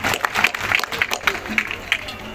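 A crowd at a cow shelter event claps in a loose, moderately loud burst, with irregular sharp claps audible for a couple of seconds under background murmur.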